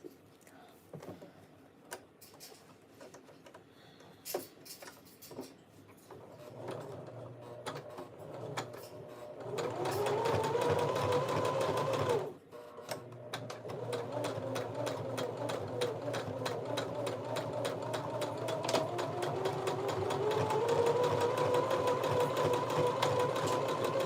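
Sewing machine stitching fursuit arm sleeves for a bodysuit, starting with scattered short bursts and clicks, then settling into a long steady whirring run that pauses briefly midway and resumes.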